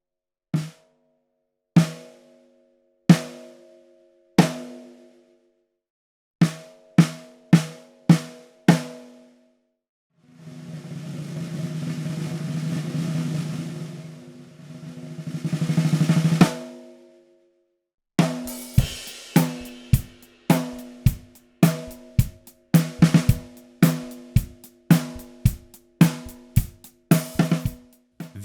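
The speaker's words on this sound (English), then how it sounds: "This is the sound of a lower tuned, wide open drum that is ridiculously resonant." Low-tuned cast bronze Offbeat Drum Co. snare, wide open and very resonant, struck in single hits and rapid patterns with long ringing overtones, plus two extended rolls in the middle; close and loud, no talking.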